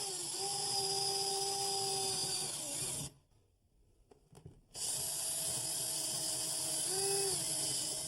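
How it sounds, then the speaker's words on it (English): A high-pitched power drill with a high-speed bit whines steadily while drilling a pilot hole into wood, pauses for about two seconds, then spins up again and keeps running. "I'm going to replace the masonry bit with a high-speed bit so I can drill a pilot hole"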